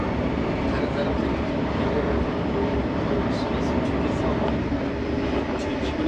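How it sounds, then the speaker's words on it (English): A train travelling through Korea toward Daegu produces a steady, loud rumble and rushing noise, with faint clicks and squeaks near the end. "Alright, calm train ride, that was very peaceful."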